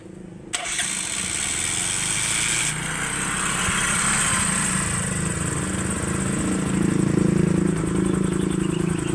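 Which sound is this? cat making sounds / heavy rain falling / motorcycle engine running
motorcycle engine running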